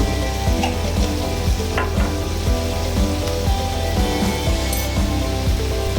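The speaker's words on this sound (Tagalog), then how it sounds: "Halo-haluin lang natin hanggang masakot siya ulit." Mung bean stew sautéed with shrimp paste and chili powder sizzles loudly in a pan while a utensil stirs it, making a steady crackling fry with rhythmic scraping strokes close up and no talk.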